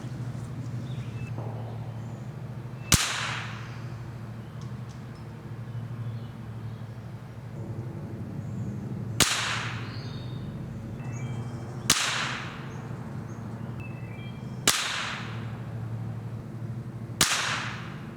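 Five sharp, close .22 rifle shots from a vintage 1971 Remington fired at a target 40 yards away outdoors, spaced a few seconds apart over a steady low background hum.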